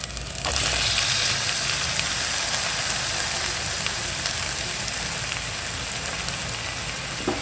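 Marinated chicken sizzles and fries in masala in a pan, a steady, close crackling hiss that starts abruptly and continues evenly throughout with no talking.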